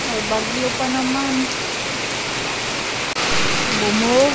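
Heavy rain pours down steadily during a rice harvest as a storm arrives, a dense, loud, continuous hiss with faint voices and a low engine hum underneath.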